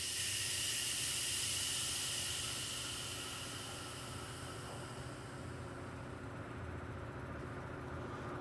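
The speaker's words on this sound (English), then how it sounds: "We're going to relieve the air pressure off the tool." Compressed air bleeding off an engine service tool, a steady loud broadband hiss that gradually eases and settles at a lower, continuous level with no voices.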